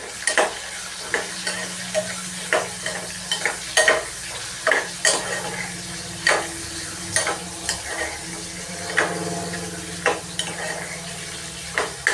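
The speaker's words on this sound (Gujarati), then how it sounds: "અમારે શું જીરું નાખીને વઘારવાનું હોય" Cumin tempering in hot oil in a home kitchen, a steady sizzle running throughout under repeated sharp scrapes and taps of a spoon stirring against the pan, close and fairly loud.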